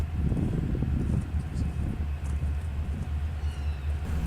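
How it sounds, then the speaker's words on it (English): Louisiana Southern locomotive 3911 leads a freight train past a locomotive facility with a steady, heavy low rumble and rolling drone, mixed with wind buffeting the microphone throughout. "Here we listen to the sound of number 3911 leading the LAS train toward the interchange site"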